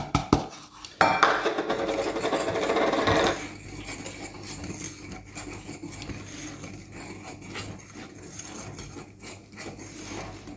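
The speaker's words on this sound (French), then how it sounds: "Ensuite, je rajoute la farine, je mélange un peu la levure." Flour and yeast being stirred into tart dough for a strawberry tart, opening with louder scraping and clinking of a utensil against a bowl, then settling into quieter, steady rubbing and mixing sounds with no talk.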